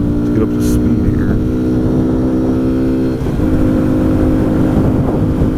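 A Kawasaki Z125 Pro motorcycle accelerates, its small engine droning steadily and rising through one gear shift. The sound is loud and close, with wind noise and a rider talking over it.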